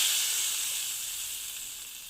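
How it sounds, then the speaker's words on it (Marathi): Asafoetida tempering sizzles steadily in hot oil for kadhi, a continuous bright hiss that stays loud and close and fades slightly over two seconds, with no voices. "आता हिंग घालणार आहे हिंगाची फोडणी ही खूप मस्त बसली पाहिजे"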